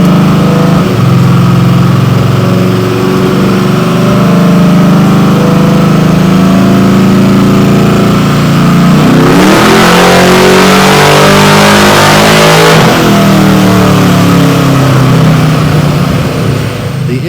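A Malibu's engine roars steadily at full throttle in a naturally aspirated dyno pull, rising in pitch and breaking up into a harsh, broadband blast near the end before easing off.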